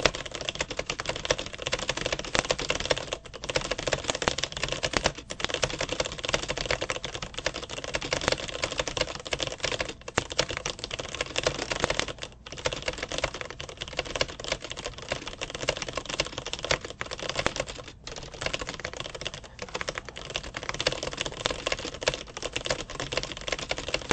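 Steady, fast typing on a keyboard with dense, continuous clatter of keystrokes and brief pauses, fairly close and moderately loud, with no voices.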